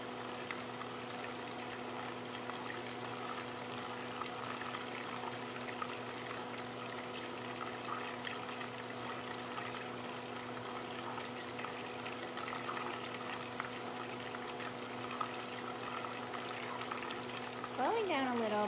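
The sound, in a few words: brown butter boiling in a pan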